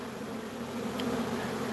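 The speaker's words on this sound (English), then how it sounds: "when you're shaking a swarm" A dense, continuous buzz of a honeybee swarm close by, steady and droning with no voices.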